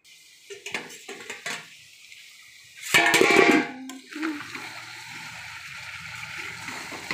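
A metal lid clatters back onto a pot of chicken curry (desi chicken), a short bright clank followed by a low simmering bubble in a home kitchen.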